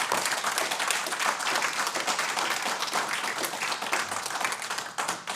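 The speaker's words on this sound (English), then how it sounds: "A big applause." Sustained audience applause fills a hall at the end of a talk at the Vintage Computer Festival Zurich 2025, dense and steady for about five seconds with no speech over it.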